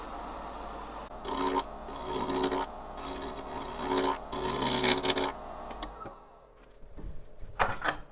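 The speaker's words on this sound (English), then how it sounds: "now we're going to crank up the speed here. Get out the bowl gouge and see what happens" Wood lathe hollowing a canteen flask with a bowl gouge at high speed, giving repeated loud rasping cuts in rhythmic bursts over a steady motor drone, then quieter scrapes near the end, no talk.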